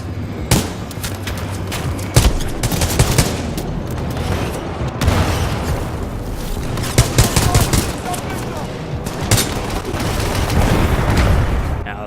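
Rapid bursts of rifle fire from a futuristic M14-style space rifle in Titanfall 2 crack out repeatedly among booming impacts and other gunfire, loud and dense, with a voice talking underneath.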